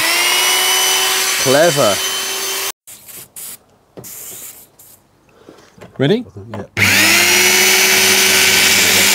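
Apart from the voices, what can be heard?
electric drill with drill bit, drilling Smart ForTwo tailgate hinge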